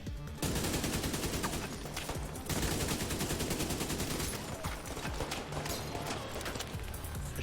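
Sustained rapid gunfire in The Division 2 video game, continuous volleys and automatic bursts filling the scene with loud, dense shots that barely pause throughout.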